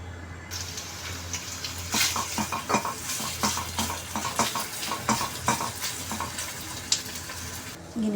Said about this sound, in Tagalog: Yan, gisa ko na yung aking beef.